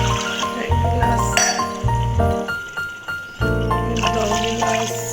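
Glasses of water are poured into a cooking pot for chicken pulao, several separate pours splashing in with short gaps between them, and music plays underneath.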